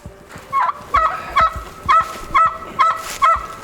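Black artisan turkeys on a homestead call out in a steady series of about seven honking gobbles, close and fairly loud, with no talking.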